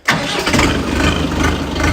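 A Jinma 504 tractor's diesel engine cranks and catches at once on a cold start, then runs loud and rough with a throbbing idle, close by.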